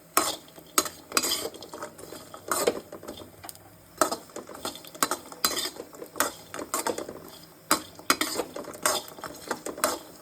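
Dry fruits roasting in organic ghee are stirred in a pan, a spoon scraping and clinking against the metal in quick irregular bursts over a soft background sizzle.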